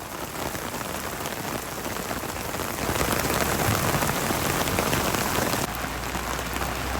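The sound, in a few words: roaring waterfall at Kodaikanal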